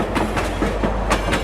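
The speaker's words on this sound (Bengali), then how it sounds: "আরে ট্রেনটা তো ওদিকেই যাচ্ছে।" A train rolls along railway tracks with a loud, close, rhythmic clatter of wheels over rail joints and a heavy rumble underneath.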